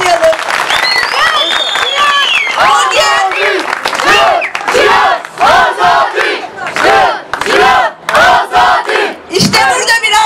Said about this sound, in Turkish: işten çıkıp gelmişler, bir alkışlayalım.